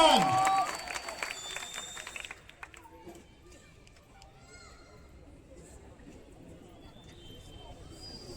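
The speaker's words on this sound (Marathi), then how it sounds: "जरा टाळ्यांचा आवाज" Audience applause and cheering at a bodybuilding competition in Dindoshi burst loudly for a couple of seconds, then fade to a low, scattered crowd murmur.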